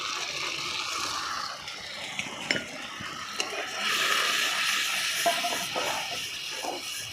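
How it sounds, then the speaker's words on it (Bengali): Ground cumin, coriander, chili and turmeric frying in oil in a pan for a rohu fish curry with potato and eggplant: a steady sizzle and hiss with scraping stirring strokes and a few light utensil clinks, close up. "আমি এই দিয়ে দিলাম মশলাগুলো।"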